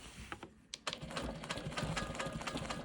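A quilting sewing machine stitches in the ditch on a card trick quilt block, a steady close mechanical whir with rapid needle ticks running continuously after a brief start.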